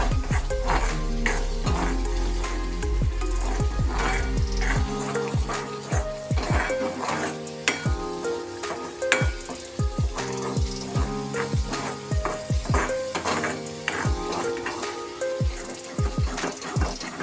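Spice masala roasting in oil in a pan for a black-eyed pea curry, with repeated clinks and scrapes of a spoon against metal over a faint sizzle, close and busy with no talking.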